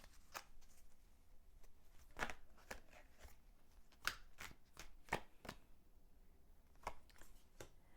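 Tarot cards are pulled from a deck and handled, producing a series of soft, sharp card snaps and flicks at irregular intervals, close and quiet with no talking.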